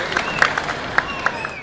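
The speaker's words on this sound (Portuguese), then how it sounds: "Moradores aplaudiram o retorno dos policiais militares ao centro de Ibiraiaras na noite passada." Residents applaud military police returning at night to the centre of Ibiraiaras, a steady wash of clapping from a crowd with a few sharper claps standing out, mixed with faint voices.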